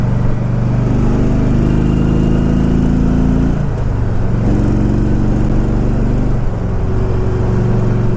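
A 2005 Harley-Davidson Ultra with a 5-speed transmission accelerates, its loud, close engine roar climbing in pitch through successive gear shifts, with no voices over it.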